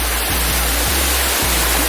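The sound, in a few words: backwoods waterfall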